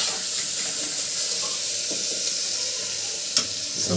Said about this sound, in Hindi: बहुत बढ़िया छौंक लगा हुआ है